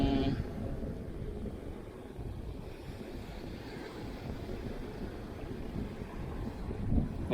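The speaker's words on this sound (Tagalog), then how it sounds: "Malakas yung hangin eh." Strong wind gusting over a beach during surf fishing, a steady broad rush with a low rumble of surf beneath it, continuous and fairly loud throughout.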